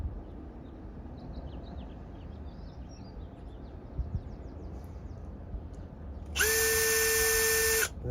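A brushless cordless power drill spins up near the end in a steady high whine of a few seconds, loud and close, following quieter outdoor background noise with faint bird chirps in a Venice, Los Angeles setting.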